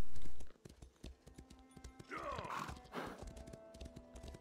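A horse's hooves clip-clop at a steady trotting rhythm while riding in Elder Scrolls Online, with a short whinny-like call in the middle and a voice talking faintly underneath.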